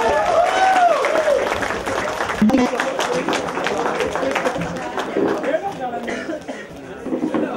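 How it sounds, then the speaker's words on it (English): An audience on stage and in the crowd applauds at a marathon fun run event in Bengaluru, a steady mass of clapping kept up under an announcer's amplified voice, with crowd murmur and a cough. "Big round of applause, ladies and gentlemen."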